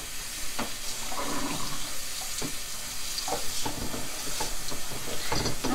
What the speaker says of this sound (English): I'll just agitate it in the water just to try to loosen up the goo.